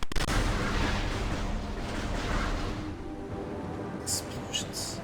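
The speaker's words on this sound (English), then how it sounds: "Explosions." Explosions rumble through an alien world in Metroid Prime, a dense, continuous low roar of blasts with bursts and crackle, loud throughout and fading slightly toward the end with a few sharp pops.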